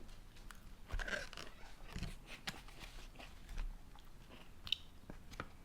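Close, wet chewing and crunching of crisp bacon, onion and peppers, with irregular bites and sharp crackles repeating over several seconds and no talk.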